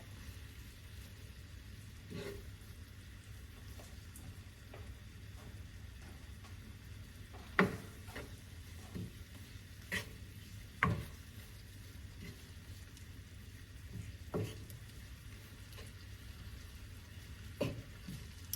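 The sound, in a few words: shrimp frying in a pan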